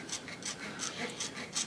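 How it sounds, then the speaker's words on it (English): A fine-tooth X-Acto hand saw cuts a small workpiece during a milling machine variable speed head repair, making a quiet, rhythmic rasp of short strokes, roughly one every third of a second, with no talking. "making these cuts is best done with one of these fine tooth X-Acto saws"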